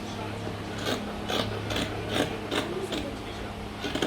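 Scissors snip a notch into dress fabric in several short, crisp cuts spaced about half a second apart. The cuts are close and clear over a faint low hum.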